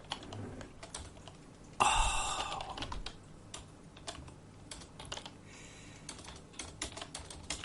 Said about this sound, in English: I'm just thinking while I'm typing.